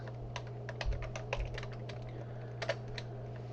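Java code for a 2D game engine is typed on a computer keyboard, the keys tapping in irregular close bursts over a steady low electrical hum, with no voices.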